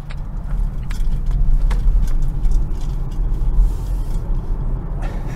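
A 2022 Polestar 2 Dual Motor electric car turning around and accelerating, heard as a low, steady road and tyre rumble with faint cabin rattles, close and without engine roar or talk.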